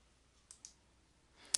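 Faint computer mouse clicks while selecting a green button on screen in a phone call-log program: two light clicks close together, then a sharper louder click after a brief pause, in a quiet room.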